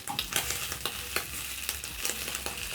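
Bacon fries in a pan with a steady close hiss of fat, broken by frequent sharp pops and crackles, with no one talking.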